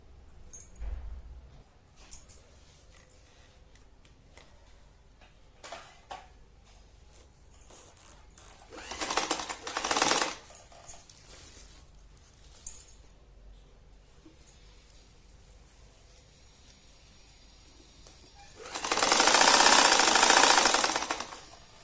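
A sewing machine stitching a cloth cover for holy books: a short burst of rapid, buzzing stitching in the middle, then a longer, louder run near the end, with quiet handling noises between.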